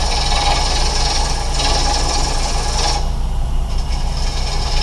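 A wig stand turns on a wood lathe that is too short for the user: a constant, loud, rough hiss of cutting with a steady low motor hum underneath, and the tone shifts partway through.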